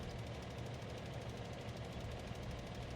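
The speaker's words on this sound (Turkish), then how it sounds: "Şöyle bir makineyi B tuşuyla çalıştıralım" A farm machine's engine in Farming Simulator 2015 runs steadily with a low, continuous rumble and faint knocking, close and even throughout with no talk.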